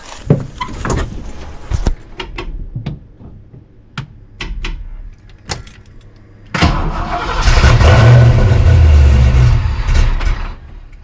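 A Foxbody Mustang engine, just fitted with a new fuel pump, cranks with sharp intermittent clicks and bursts before catching at once and settling into a loud, steady rev, close by and without speech.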